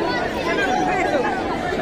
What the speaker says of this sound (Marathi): गर्दी पाहू शकता तुम्ही